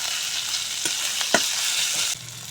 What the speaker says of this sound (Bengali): আদা রসুন দিয়ে আবারও কিছুক্ষণ বেজে নেব